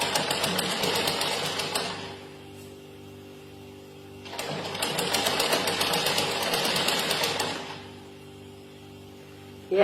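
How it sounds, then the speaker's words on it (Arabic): A sewing machine stitches fabric in two sustained bursts of rapid, even needle chatter, each lasting a couple of seconds with a quiet pause between, close and clear with no talking. "نزيد نخيط منها"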